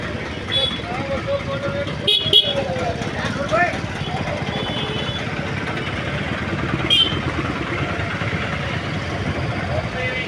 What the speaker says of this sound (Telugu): పెద్ద బస్సు సార్ ఇది